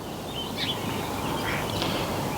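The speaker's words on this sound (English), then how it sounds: "The seagulls seem to be very active today." Several seagull calls ring out at middle distance over steady outdoor background noise, with no voices.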